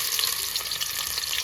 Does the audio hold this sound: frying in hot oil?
yes